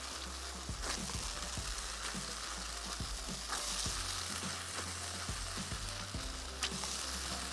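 Cornflour-coated fish fries in a pan with a continuous close sizzle, broken by occasional soft clinks and scrapes from stirring.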